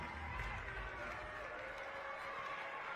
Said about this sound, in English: Crowd excited for the end of this one for the team.